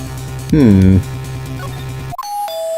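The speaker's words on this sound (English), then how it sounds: "Ding dong! Oh, someone's at the door." A doorbell chime rings in the Phoenix Wright: Ace Attorney – Trials and Tribulations video game, a clear electronic ding-dong followed by a sustained tone, loud and up close.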